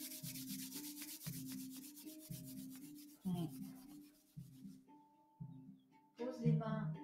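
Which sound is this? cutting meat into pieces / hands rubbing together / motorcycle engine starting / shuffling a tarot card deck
hands rubbing together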